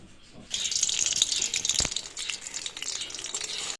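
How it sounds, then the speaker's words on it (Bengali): Bhola fish frying in hot oil, a steady bright sizzle that starts after a quiet half second and continues evenly, with one sharp knock near the middle. "আর এখানে ভোলা মাছটা আমি ভেজে নিচ্ছি"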